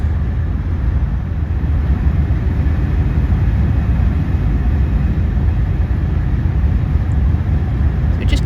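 A vehicle cruises along a road through the French countryside, giving a loud, continuous low rumble of engine and road noise from inside, unbroken and without speech.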